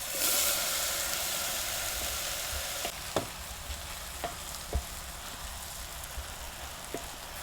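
Chopped ridge gourd sizzles steadily in a hot pan with a little cream. A louder hiss at the start settles into a constant frying crackle, with sharp spoon taps and scrapes scattered throughout. Nobody speaks.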